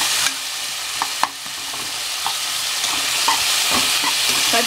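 Sliced onions frying and sizzling in a pan for chicken biryani, with a steady hiss, stirring and a few light clinks of a spoon against the pan throughout.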